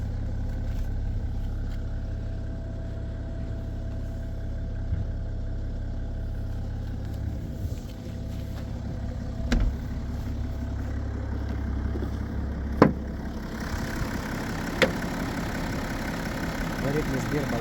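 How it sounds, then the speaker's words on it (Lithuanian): A 2012 BMW 640d Gran Coupe's diesel engine idles with a steady low rumble and a smooth, even throb. Someone talks over it now and then, and a few clicks and knocks stand out near the end. "Variklis dirba labai gražiai"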